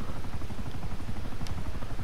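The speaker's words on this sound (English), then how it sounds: "A helicopter is quickly get underneath." A helicopter in GTA 5 Online hovers overhead during a yacht mission, its rotor a steady loud chopping thrum filling the whole moment without speech.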